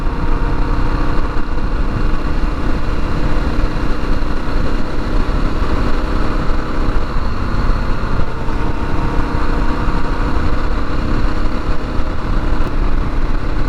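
A 1987 Honda XL600R motorcycle engine drones steadily and loudly throughout, with constant road and wind roar while riding.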